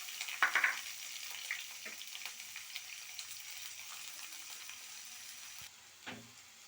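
Onion and green chilies frying in ghee, a soft steady sizzle with a few sharper crackles and stirring clinks near the start, quiet and close throughout.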